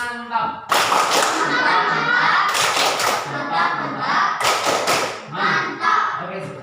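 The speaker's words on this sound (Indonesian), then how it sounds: "Kasih aplausnya dong, tepuk mantap." A small group claps in bursts of quick, loud rhythmic patterns, with thumps and taps mixed in, and voices talking between and over the clapping.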